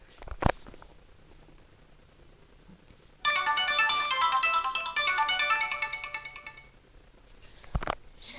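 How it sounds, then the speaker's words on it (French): A second alarm rings on from 3.2 to about 6.6 s: a loud, steady electronic ringtone with rapid repeating tones, alone in a quiet bedroom, ending abruptly. Soft clicks and thumps come before and after. "J'avais oublié qu'il y avait la deuxième sonnerie à la suite."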